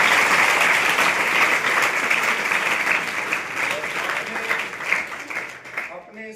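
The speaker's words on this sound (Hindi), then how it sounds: "उनके लिए भी एक बार जोरदार तालियां।" Loud, sustained audience applause at a motivational speech event, steady broadband clapping that fades toward the end with a voice briefly emerging.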